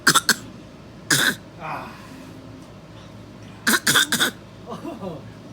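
Playful copycat coughing, with several sharp, close coughs and throat-clearing sounds in short clusters imitating another person's cough, separated by brief pauses and a soft spoken exclamation.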